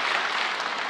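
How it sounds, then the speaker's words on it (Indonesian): Audience applause fills a church service, a dense, steady wash of clapping from a crowd that holds at an even level throughout with no talking over it. "Tepuk tangan buat Tuhan."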